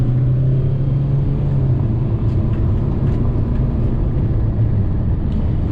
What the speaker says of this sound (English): So yeah, revving the motor.